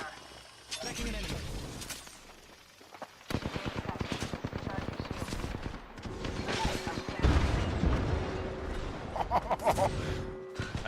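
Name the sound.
gunfire in Apex Legends video game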